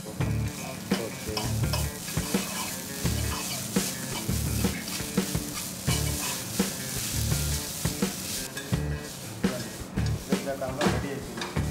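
Cashews stir-fried in a pan for veg hakka noodles, a steady sizzle broken by rhythmic scraping and tossing strokes of a spatula, close and clear throughout.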